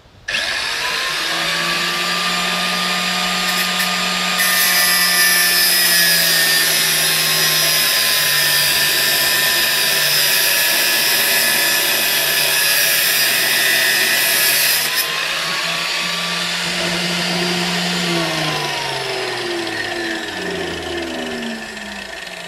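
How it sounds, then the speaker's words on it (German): A power tool grinding a drill bit in a jig, a loud steady motor whine with a high shrill grinding band that cuts in for several seconds, then eases off as the motor winds down at the end. "Okay, jetzt schleifen wir."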